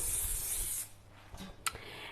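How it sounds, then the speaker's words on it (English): Cooking spray hisses steadily onto a baking tin for brownies, close and loud, then stops, followed by a few light clinks and rubs. "So what you do now is spray your tin,"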